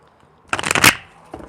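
Tarot cards being shuffled by hand, a short dense burst of riffling and flicking paper, close and crisp, followed by a brief quieter shuffle.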